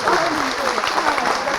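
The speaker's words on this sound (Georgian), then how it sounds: "აპლოდისმენტები მხურვალე ორივე გუნდს." A studio audience at a school quiz final gives both teams a warm round of applause, a loud, dense burst of clapping heard close and sustained throughout.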